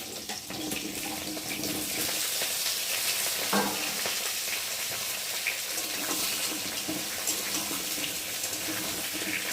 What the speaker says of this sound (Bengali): এই যে কেটে রাখা আলুগুলোকে দিয়ে ভালো করে ভেজে নেব